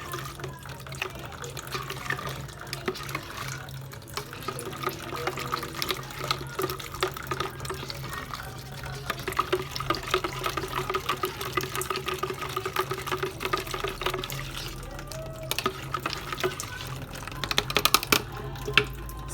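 A spoon swirls a strawberry choco jelly milk drink in a container, giving a continuous liquid swishing with frequent light clicks and taps against the sides. The sound is close and fairly soft, with no voices.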